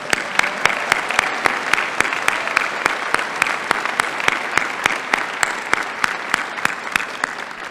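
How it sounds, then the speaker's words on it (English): Sustained applause from a commencement audience at a university chemistry ceremony, dense clapping with a few sharp nearby claps standing out, continuing evenly throughout. "Please give her a round of applause."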